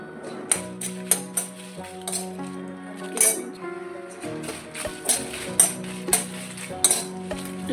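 Red chillies dry roasting in a pan with a little oil for sengala podi, heard as repeated clinks and scrapes of a spoon against the metal pan over a faint sizzle, with no talking.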